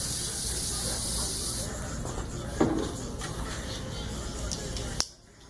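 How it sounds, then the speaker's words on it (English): Cool Glue hair spray hisses from a can for about a second and a half, close and loud, followed by quieter barbershop rustling and a couple of sharp clicks. "Spray a little bit of Cool Glue."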